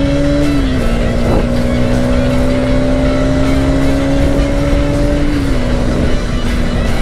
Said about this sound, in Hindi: फुल थ्रॉटल देगा भाई लोग